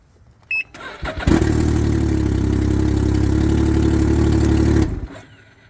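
A Can-Am Ryker three-wheeler fitted with a new battery cranks briefly after a click, then catches and runs at a steady, loud idle for several seconds before shutting off.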